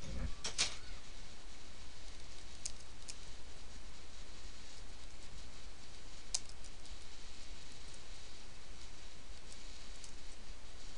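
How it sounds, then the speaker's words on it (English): A computer keyboard is typed slowly, with sparse, scattered key clicks standing out over a steady background hiss. "Still a slow typer as usual."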